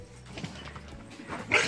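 Dogs at an animal rescue foundation give faint, short barks and yips scattered over low background noise, with a sharper high yelp at the end.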